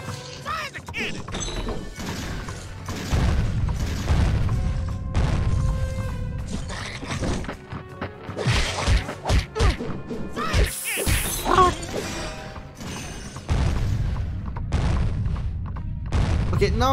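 Cannon fire in The Legend of Spyro during a pirate fleet boss fight, with repeated heavy booms, crashes and thuds mixed with dense game sound effects and music.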